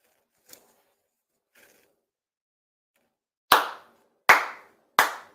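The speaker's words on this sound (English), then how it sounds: "4 sincere claps." Ritual hand claps at a Shinto monthly ceremony for Tenchi Kane no Kami: two faint taps, then three loud, crisp claps spaced evenly in a quiet room.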